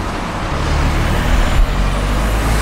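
Car passing on a London street, a broad rushing roadway noise held steady for a couple of seconds, with a slight surge partway through and general traffic hum behind it.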